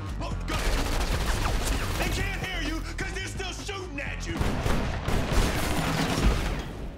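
Gunfire in an action film shootout, dense rapid volleys of shots crackling over a loud, busy mix of music and effects, with a brief stretch of voices in the middle.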